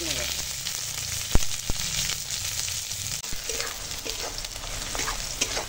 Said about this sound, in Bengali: ওই তেলেই এখন দিয়ে দেবো তেজপাতা আর কেটে রাখা পেঁয়াজ, কাঁচা লঙ্কা, পেঁয়াজ একসঙ্গে ভেজে নেবো।